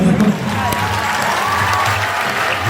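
Audience clapping and crowd noise at a devotional bhajan singing event, a steady dense wash of applause over music that holds level for the whole stretch.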